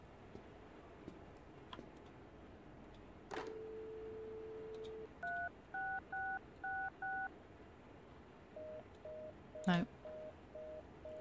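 A phone keypad is dialed in an indie escape-room video game: a click, then a series of five short evenly spaced tones, a pause, and another run of softer beeps, with faint clicks and thumps in between.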